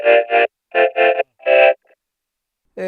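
Dry robotic voice from a Moog 16 Channel Vocoder with no reverb, in short choppy bursts with sharp cutoffs and no reverb tail, followed by a brief silence and another burst starting.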